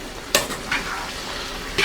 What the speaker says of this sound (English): Now you want to cook the shrimp